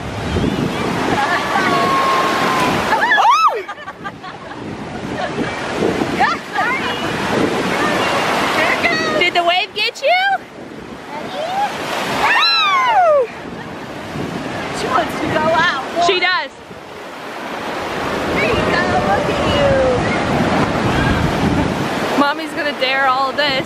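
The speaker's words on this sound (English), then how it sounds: "Addicted to the waves. She wants to be out as far as she can, but it's kind of rough today." Rough ocean surf breaks on a beach, with loud crashing waves and a continuous wash of water under gusty wind noise on the microphone. People talk and call out over the surf throughout.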